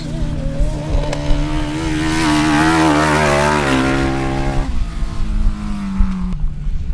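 1000cc sidecar racing engines roar loudly at a grasstrack race, one rising and falling whine sweeping up in pitch, then dropping off, with more engines rumbling behind.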